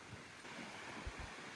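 Strong wind buffets the microphone at a beach, a constant low rushing roar with faint surf-like wash beneath, with no voices.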